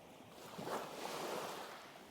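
Ocean surf washes in a soft, steady swell, a faint broad hiss of waves rising and receding with light wind, calm and unbroken throughout.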